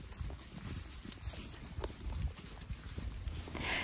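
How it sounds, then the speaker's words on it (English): A horse named in a barn setting walks out on a hack, its hooves clip-clopping in a steady, fairly close rhythm of repeated thuds over faint outdoor background noise. "I went and fetched Smokey in from the field and groomed him and tacked him up, and then we set off for our very first hack"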